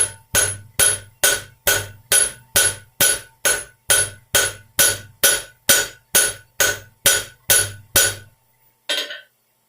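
Rapid, even cross peen hammer strikes peening steel for a leaf hook, about sixteen sharp ringing blows in a steady rhythm, then a pause and one last lighter tap.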